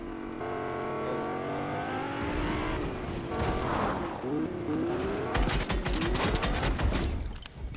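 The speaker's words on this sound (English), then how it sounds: "Actually, I hear a car." A car drives and revs in the Fortnite video game on Nintendo Switch, its engine tone climbing and swelling, with rapid crackling bursts of game effects toward the end, loud and close.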